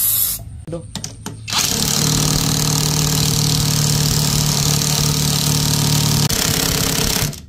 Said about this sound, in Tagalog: Ayun, nagagrinderin na yung magneto, ayaw matanggal.